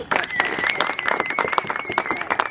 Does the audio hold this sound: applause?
yes